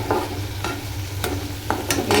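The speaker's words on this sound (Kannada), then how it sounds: "ಈರುಳ್ಳಿ ಫ್ರೈ ಆಗಲಿ." Onions frying in a pan with steady sizzling throughout, broken by a few sharp scraping stirs of a spoon; close and fairly loud, no voices.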